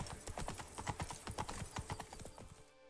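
Roach the horse's hooves in The Witcher 3, a quick rhythmic run of clip-clopping beats, close and clear, slowing and fading out at the end.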